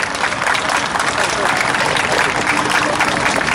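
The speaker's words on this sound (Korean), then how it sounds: "박수 부탁드립니다." Crowd at a memorial rally for the Sewol ferry disaster bursts into loud, close, continuous applause, many people clapping together for several seconds, with crowd noise mixed in.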